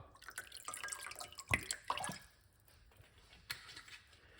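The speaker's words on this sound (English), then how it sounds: "Make sure we wash off all our ingredients before you use it." Ingredients washed under running water at a kitchen sink, soft splashing and dripping with a few louder splats, fairly quiet and close, no talking.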